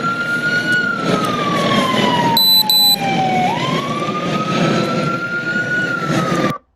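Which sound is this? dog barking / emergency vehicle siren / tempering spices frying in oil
emergency vehicle siren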